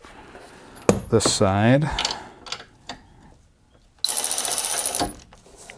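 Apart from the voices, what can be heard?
ratchet loosening a nut on a 1999 EZGO TXT golf cart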